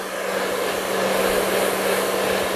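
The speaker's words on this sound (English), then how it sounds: "here I am using a hairdryer" A hair dryer blows over a wet acrylic painting, a loud, steady whirring roar with a constant hum that runs alone without pause.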